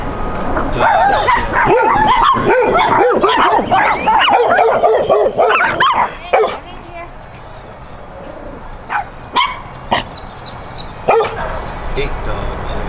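Several stray dogs on a San Antonio street bark, yip and whimper in a noisy, overlapping cluster, then a few scattered single barks follow as things quiet down.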